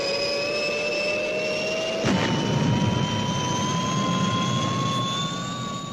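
The Fireball XL5 spacecraft takes off with a steady jet-like engine roar and a rising whine, swelling slightly after a brief crackle midway and holding loud to the end.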